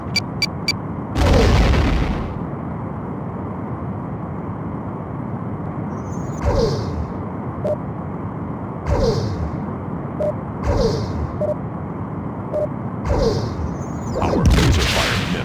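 Starship laser fire from a Star Trek: The Next Generation video game rings out in several separate blasts, each a sharp whooshing boom over a steady low hum, with two louder bursts at the start and end.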